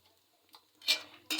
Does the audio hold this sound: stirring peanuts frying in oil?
yes